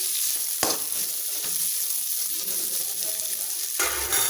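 Long-sliced large onions sizzling in a pan of cauliflower fried rice, a steady close hiss with a few louder stirring scrapes and bursts of crackle, and no voices.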